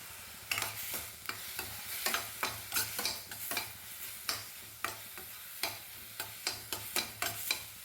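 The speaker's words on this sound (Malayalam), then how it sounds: "എന്നിട്ട് നെയ്യിലിട്ട് കുറച്ചൊന്ന് വഴറ്റണം." Grated bottle gourd sautéed in ghee, a spatula scraping and tapping the pan in a steady rhythm of roughly two strokes a second over a soft sizzle, close and clear.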